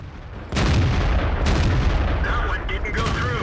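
A tank cannon fires with a sudden heavy boom in World of Tanks, followed by a sustained rumbling battle din and a few sharper cracks in the background.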